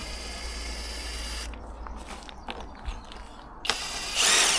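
A power tool whirs in short bursts trying to undo stubborn screws on a tour bus, with steady droning at the start, brief ratcheting spurts and a louder buzz at the end.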